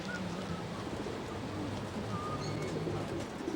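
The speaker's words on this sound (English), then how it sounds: "the pigeons are noisy today" Pigeons coo softly in an outdoor setting, a steady low murmur of repeated calls over light ambient noise, with a few faint chirps from other birds.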